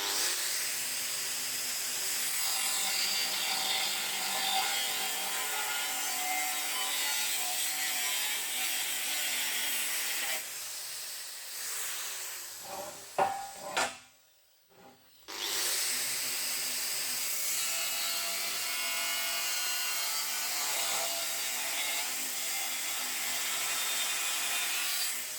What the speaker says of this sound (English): We can just chop off the excess with a grinder and a cut-off disc.